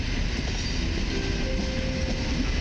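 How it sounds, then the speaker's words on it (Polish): A train rumbles into a platform at Warszawa Zachodnia station in Poland during platform and hall reconstruction, giving a dense, continuous roar with a faint high squeal of wheels or brakes, loud and close. "Ze stacji Kraków Główny do stacji Warszawa Wschodnia jedzie na tor 6 przy peronie 5."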